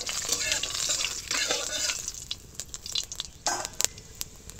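Ajwain, cumin, fennel, ground pepper and asafoetida sizzle in hot oil while being stirred for tomato kachori. Quiet frying crackle comes with intermittent scraping strokes of the spoon and a few sharper clicks.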